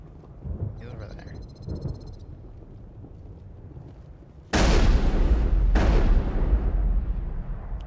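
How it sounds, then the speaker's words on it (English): Gunfire in the video game Mass Effect, two heavy booming blasts close together that roll on loudly after quieter rumbling, with a brief electronic beeping near the start. "What are you shooting at, buddy?"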